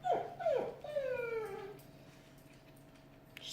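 A dog whines nearby in a few rising and falling whimpers, loud at first and then trailing off into quiet room tone, with no talking over it.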